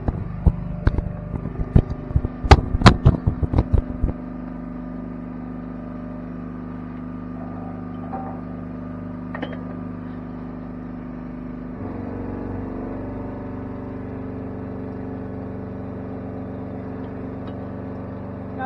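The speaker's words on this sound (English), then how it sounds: "Now she's off the trailer enough that I can just drive the rest of that off." Truck engine idling and rumbling steadily while a 10-yard dumpster is pushed off a trailer in winter, with a burst of loud metallic clanks and bangs at the start before the low engine hum carries on alone.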